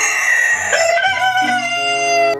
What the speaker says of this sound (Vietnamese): Wow, đó là một con gà trống các bạn ạ.